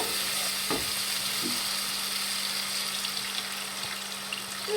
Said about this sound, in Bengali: এবার আমরা এখানে জলটা দিয়ে দেব